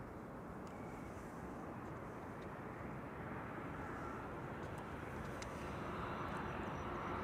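A KLM passenger plane arriving at Amsterdam Schiphol from Berlin, heard as a steady, broad roar of engine noise that holds an even level throughout with no clear rise or fall.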